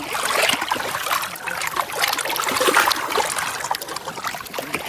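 Water at Dabhosa Waterfall in Jawhar, rushing and splashing close by in a continuous, fluctuating wash with no voices.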